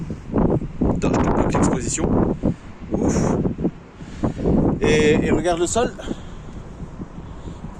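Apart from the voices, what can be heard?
strong wind outdoors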